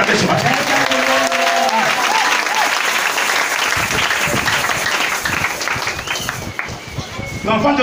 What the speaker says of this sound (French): Est-ce que tu peux l'acclamer ce matin?